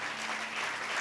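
A church congregation claps loudly during a Hindi sermon, a dense continuous wash of applause with no talking over it.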